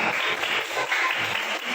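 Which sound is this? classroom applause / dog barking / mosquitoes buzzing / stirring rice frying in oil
classroom applause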